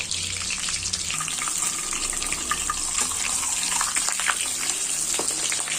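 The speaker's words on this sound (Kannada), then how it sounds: "ನಾನಿವಾಗ ಇದನ್ನು ಡೈರೆಕ್ಟು ಆಯಿಲ್ಗೆ ಹಾಕಿ ಸ್ವಲ್ಪ ಫ್ರೈ ಮಾಡ್ಕೊಳ್ತೀನಿ" Paneer cubes frying directly in hot oil in a pan, giving a steady, bright, even sizzle that stays constant and close, with no talking.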